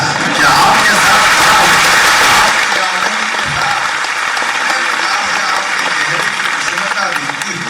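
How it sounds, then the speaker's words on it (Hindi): At a guest scholars' conference in Bhopal, a large audience claps loudly and continuously with some yells mixed in, the ovation easing slightly as it goes on. "ऐसे में आपकी ताली भी इतनी बजती"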